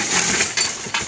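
Glass clinks and crunches in a dumpster, a few sharp brittle taps and small breaking sounds spaced through a second of close rustling.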